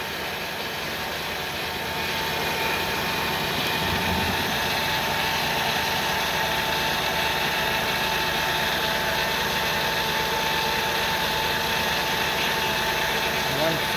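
A 2000 Ford Windstar SEL engine idles roughly and vibrates heavily, giving a loud, steady drone with a dense rumble that runs unbroken through the whole stretch.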